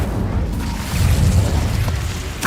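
Incendio fire spell cast in Hogwarts Legacy, a loud, dense rumbling whoosh of flame with a boom-like low body that holds steady for a couple of seconds, with no voice over it.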